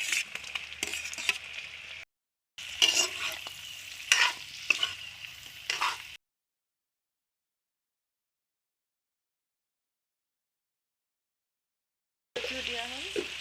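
Local chicken meat fries in a pan with onions, garlic and ginger, sizzling and scraped by a stirring utensil in two bursts. A long silence follows, then sizzling returns with a brief voice.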